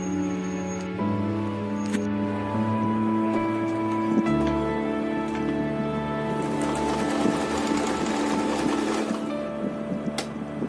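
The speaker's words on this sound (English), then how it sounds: "you have to apply a stitch which connect from this pointed corner to this end" Sewing machine stitching a bias joint seam in fabric, a continuous close mechanical whir with a steady hum that shifts pitch as the stitching speeds up and slows, with no talking.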